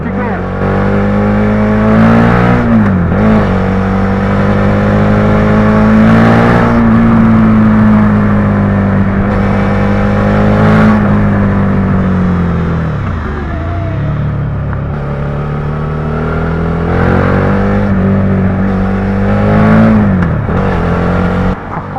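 A Suzuki SV650 motorcycle engine pulls hard and loud up close, its pitch climbing then dropping sharply at each gear shift several times over, with a rider's voice briefly mixed in.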